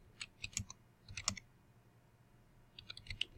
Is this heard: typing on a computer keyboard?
yes